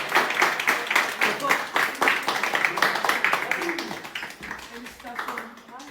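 A small group claps to cheer for Anis, a quick, irregular patter of hands near the listener with voices talking over it, thinning out and fading toward the end.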